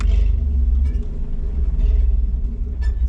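A Chevy S10 engine idles steadily after its cooling system is refilled with coolant, a continuous low rumble close to the microphone with slight uneven pulsing and no talk over it.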